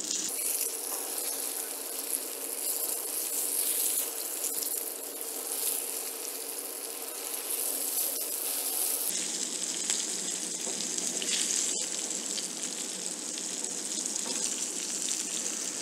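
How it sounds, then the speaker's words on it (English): Fish fries in a pan for fish meunière, giving a continuous close sizzle and crackle that briefly dips as the fish is turned, then carries on as a steady hiss. "So we will turn the fish to fry from the second side."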